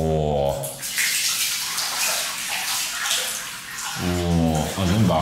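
Hot water gushes and overflows a bathtub on the volcanic island of Izu Oshima, a loud continuous rushing splash, with a voice speaking briefly at the start and end.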